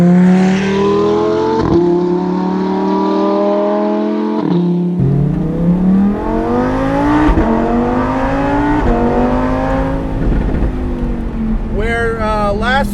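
A Lamborghini Performante Spyder convertible accelerates hard in Corsa mode, its engine rising in pitch through a series of upshifts, loud and close, with a sharp rev flare at the end.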